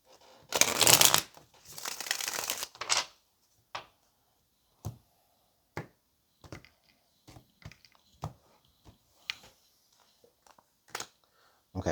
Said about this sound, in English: let's get one more shuffle